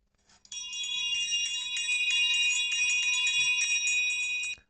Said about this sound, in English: That is the market bell.